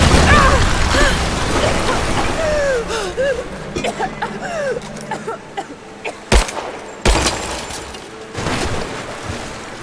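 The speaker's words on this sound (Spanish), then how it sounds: "Explosiones." Explosions and gunfire in the video game Rise of the Tomb Raider: dense rumbling blasts and crackling pops give way to sharper isolated bangs, loud and busy, with bursts of game voices and effects mixed in.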